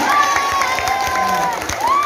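Crowd applause with cheering and shouts at the opening of Bali Language Month 2023, loud and steady throughout, with raised voices mixed into the clapping.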